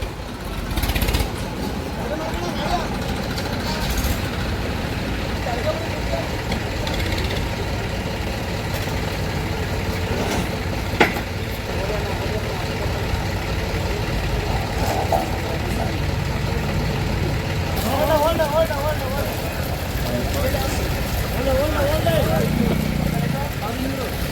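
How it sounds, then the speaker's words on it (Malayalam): A second tractor's engine running steadily at a ginger-loading site, a continuous low diesel rumble under ongoing conversation, with a few knocks and thumps mixed in. "ഇത് രണ്ടാമത്തെ ട്രാക്ടർ"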